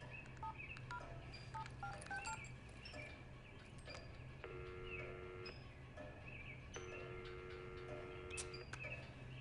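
Telephone number being dialed for a call to America, a run of short keypad tone beeps in uneven groups over a steady low background hum, with faint chirps scattered throughout.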